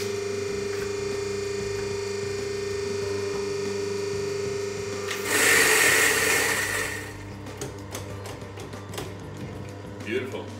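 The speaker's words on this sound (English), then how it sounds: "Now we can put our dose in." An EK43 coffee grinder grinds a dose of coffee beans, a loud broadband whir that starts about halfway through, runs for roughly two seconds over a steady background hum, then drops away into quieter clatter.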